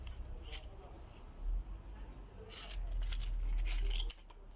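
A few crisp snips of scissors cutting, the first brief and the later ones clustered together, over a low background hum.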